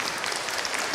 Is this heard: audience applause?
yes